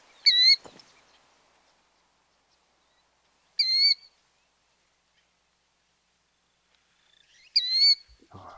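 In theHunter: Call of the Wild, a bird gives three short, clear whistled calls spaced a few seconds apart, each a brief bright double note against near silence, with a faint rustle near the end.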